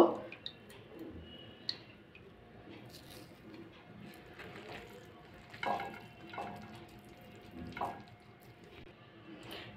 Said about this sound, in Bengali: যতটা পারবো কিন্তু জলটা ফেলে দেওয়ার চেষ্টা করব।